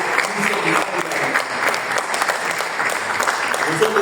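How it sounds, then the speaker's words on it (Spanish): A church congregation breaks into sustained applause, dense and steady throughout, with faint voices mixed into the clapping. "Denle un fuerte aplauso a Dios"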